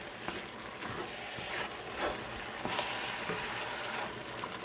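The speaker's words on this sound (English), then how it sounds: "So we added 1 pound of diced tomatoes to the mixture, and I'm going to mix that in." A spoon stirs diced tomatoes into chili cooking in a Dutch oven, making a steady soft sizzle with faint wet scraping and stirring, close up and with nobody talking.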